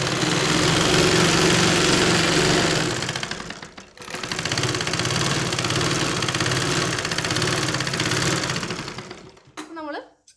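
A sewing machine stitching churidar fabric runs in long, steady, loud mechanical bursts, pausing briefly near the four-second mark, then stopping before a short final whir at the end.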